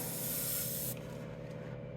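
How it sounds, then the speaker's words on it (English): Airbrush blasting isopropyl alcohol straight out of its nozzle during cleaning, a loud steady hiss that cuts off after about a second, leaving the low hum of a spray booth filter fan running behind. "So bubble it up a little bit, let the alcohol spray directly out."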